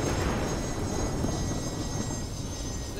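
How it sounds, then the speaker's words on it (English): A ship's afterburner in the video game Carrier Command: Gaea Mission roars as a steady, moderately loud jet-like rumble with no breaks and no speech. "Get the afterburner of the ship."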